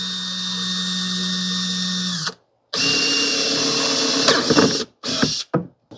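A power drill whines steadily while boring a one-inch hole in a plastic hydroponic reservoir bucket, stops briefly, then resumes with grinding and rattling before a few short final bursts.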